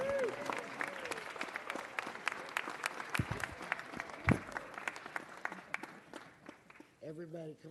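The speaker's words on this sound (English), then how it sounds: "One more round of applause." An audience at a city council meeting claps with scattered, fairly distinct hand claps. The applause is moderately loud and tapers off, and a voice starts talking near the end.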